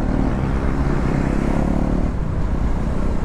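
A motorcycle cruises along the NLEX expressway in the Philippines, its engine drone blending with a constant close roar of wind and surrounding traffic, steady and unbroken throughout.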